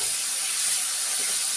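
Potatoes hit a pan of frying masala and sizzle with a steady, loud hiss that stays constant throughout.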